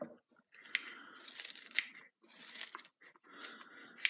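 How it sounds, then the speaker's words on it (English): Knife cutting up vegetables for veggie noodles, several bursts of crisp tearing and crunching chops with short pauses between, close and fairly quiet. "Cut these up a little bit more with the knife."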